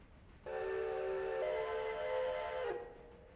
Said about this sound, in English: I love that whistle.